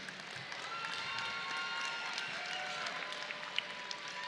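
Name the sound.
crowd applause at boxing event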